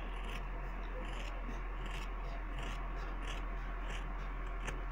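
Somewhat dull scissors cut through stiff felt beside a zipper while a small felt wallet with two front zippers is made, giving a steady, close rasping and rubbing under a low background hum.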